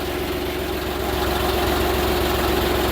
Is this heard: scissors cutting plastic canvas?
no